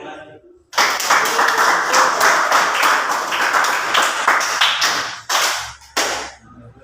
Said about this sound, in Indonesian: Tepuk tangan untuk Supri.